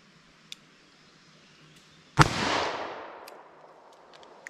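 One loud, close gunshot from a .38 Special revolver fired slow at an outdoor range, a sharp crack with a long rolling echo, followed by faint clicks.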